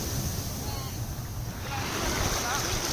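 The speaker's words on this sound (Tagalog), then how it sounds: "Ang tubig, malinaw, kalma ang wave, maraming tourist" Calm surf washes steadily onto a beach at Boracay, a broad continuous rush of waves mixed with wind buffeting the microphone.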